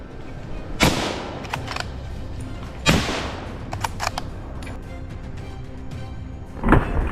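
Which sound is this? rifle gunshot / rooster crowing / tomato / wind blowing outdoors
rifle gunshot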